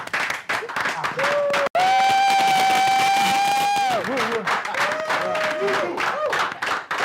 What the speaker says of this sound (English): Let's all welcome with a wonderful round of applause, Dr. Stephen.